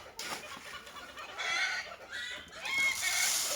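Hens, including a Brahma, cluck around an anti-pest feeder as it is filled. Their soft calls come in bursts over rustling background noise.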